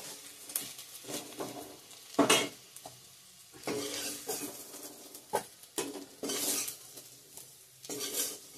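Spices, chilli powder, coriander powder and onion fry in a pan, with irregular scraping and clinking stirs of a metal utensil over a soft sizzle, close but fairly quiet, with no voices.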